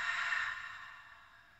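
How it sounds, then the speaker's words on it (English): A full, steady exhale out of the mouth during a pranayama breathing exercise, a soft airy breath sound heard close up that slowly fades over about a second and a half, with no talking. "You can just direct the inhalation into the lower belly, into the sides of the ribs, and into the upper chest before exhaling completely out of the mouth."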